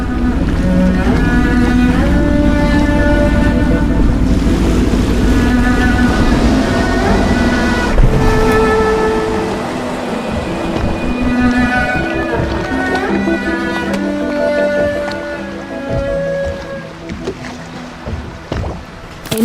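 Boat moving over water in the Dishonored video game, a continuous loud engine and water wash beneath layered tonal game sound, with no talk.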